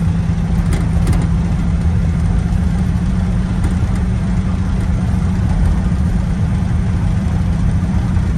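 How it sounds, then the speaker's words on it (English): A 1969 Camaro with a 454 engine and six-speed manual gearbox pulls under throttle from inside the car, giving a loud, steady, deep engine drone with faint knocks from a bumpy road. "start giving it some gas and it's just got so much torque it doesn't even phase it"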